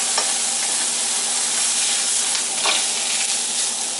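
A T-bone steak sears in a hot pan with a loud, steady, broadband sizzle throughout, with a few brief crackling pops and no voices.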